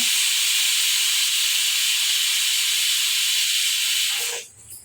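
Pressure cooker on the stove cooking soaked wheat for a sweet kheer, releasing a loud steady hiss of steam for about four seconds before it fades away.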